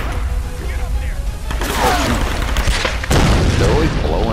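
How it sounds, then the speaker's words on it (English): Dynamite explosions in Tomb Raider: Definitive Edition, loud booming blasts amid gunfire and game noise, with a big burst near the middle and another toward the end, under a talking player. "They're always throwing dynamite at me."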